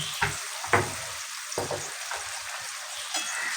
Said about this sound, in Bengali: এবার এটাকে আমি সুন্দর করে কিন্তু কষিয়ে নেব